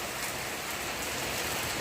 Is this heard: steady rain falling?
yes